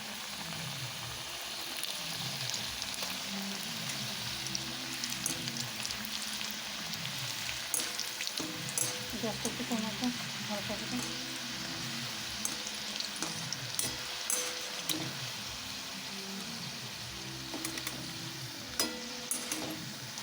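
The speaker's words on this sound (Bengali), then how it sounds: "এবার দুটো ছোটো নিমকিগুলো ভেজে রাখি" Small nimki pieces fry in hot oil with a steady, dense crackling sizzle and occasional sharper pops, close up and continuous with no voices.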